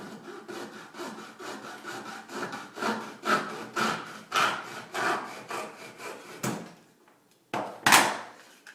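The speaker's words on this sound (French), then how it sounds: "avec la scie à métaux, si on ne fait pas attention, des fois on coupe de travers" A hacksaw rasps back and forth through a soft plastic tube in steady strokes, close and fairly loud, then pauses before a couple of final pulls.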